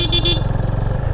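A Yamaha FZ25 motorcycle with a pillion rider labours in first gear up a steep, broken road, its engine giving a loud, close, rhythmic throbbing drone, with a brief horn-like tone at the start.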